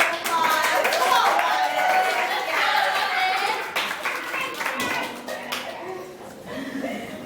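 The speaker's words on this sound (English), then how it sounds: "All right, let's give Miss Keisha a round of applause" Clapping from an audience at a motivational speaking show, moderately loud and mixed with cheering voices and chatter, thinning out toward the end.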